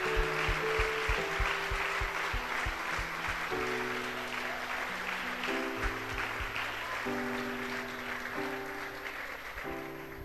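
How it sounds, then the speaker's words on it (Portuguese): A church congregation claps for the Lord during a service, a broad wash of applause laid over sustained organ-like chords that shift underneath throughout, with no speech. "Dê uma salva de palmas ao seu Senhor."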